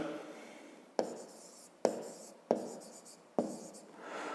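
A pen scratching on paper while writing by hand during a fifth-grade math exercise, in several strokes of about a second each, each starting with a sharp tap and then a soft fading scrape, close and quiet.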